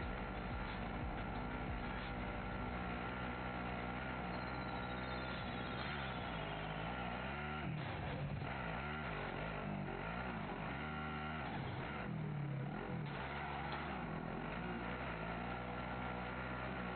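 Video game vehicle engine droning steadily and shifting in pitch as it drives, with revving swells throughout, loud and close with no talk over it.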